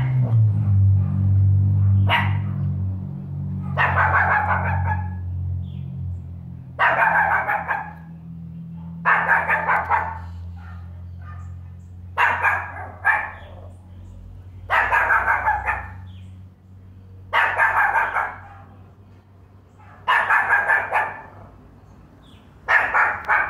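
A pinscher dog barks in repeated short bursts about every two seconds, fairly close, over a low steady rumble, with a person briefly speaking at the start.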